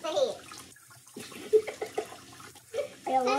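Water pours and splashes over a head during a hair-dye rinse, coming in gurgling bursts between moments of quiet while people talk and laugh nearby.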